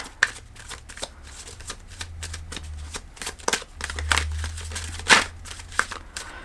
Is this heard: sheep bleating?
no